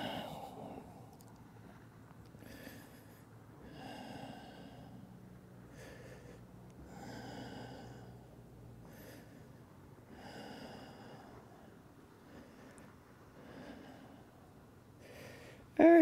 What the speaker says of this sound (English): 5 more deep breaths.